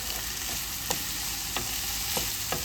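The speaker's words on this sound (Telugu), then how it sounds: "ఇప్పుడు మనం వేసుకున్న వెజిటేబుల్స్తో పాటు టమోటా కూడా బాగా ఫ్రై అయిపోతుందండి." Tomatoes and vegetables fry in a pan for masala pasta, giving a steady, close sizzle broken by a few soft stirring scrapes at regular intervals, with no talking.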